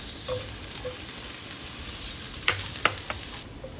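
Garlic and onion sautéing in reduced oil in a pan, a steady close sizzle broken by a few sharp clinks and scrapes of stirring near the end.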